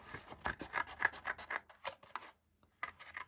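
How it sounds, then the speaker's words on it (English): Scissors cut out a semicircle from paper card, giving a run of close, rhythmic rasping snips that stop briefly and then pick up again. "find my scissors, and then I want to cut out the semicircle"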